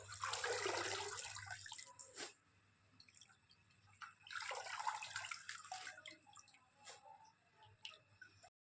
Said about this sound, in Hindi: अभी जो है ना पानी भर रहा है